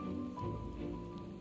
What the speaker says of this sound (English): it is raining, so ninjas must be crying somewhere.